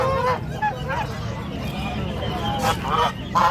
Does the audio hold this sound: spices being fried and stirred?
no